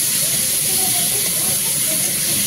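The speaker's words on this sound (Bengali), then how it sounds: "মশলাটাকে ভালো করে কষিয়ে নেব।" Onion, garlic and tomato spice paste frying in a pan, a steady loud sizzle and hiss throughout with faint background voices.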